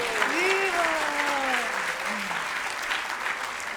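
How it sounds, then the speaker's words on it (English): An audience at a spiritual talk in London breaks into a round of applause, a steady wash of clapping heard slightly distant while a voice speaks over it. "GPT should get another round of applause."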